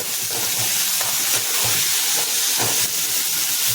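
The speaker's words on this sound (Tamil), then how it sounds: "நன்றாக வதக்கி கொள்ளவும்" Oil sizzles loudly in a pan as onions and tomato sauté for Chettinad brinjal curry, a continuous hiss broken by scattered crackles and pops. No one speaks.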